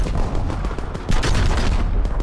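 In the Call of Duty: WWII multiplayer beta, dense battlefield gunfire rattles continuously, overlapping shots and bursts forming a loud, busy barrage.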